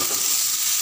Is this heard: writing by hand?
no